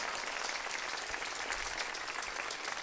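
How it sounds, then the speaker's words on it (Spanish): A congregation at a Spanish-language religious sermon claps in a thick, continuous burst of applause that stays loud and even throughout. "Desen un aplauso."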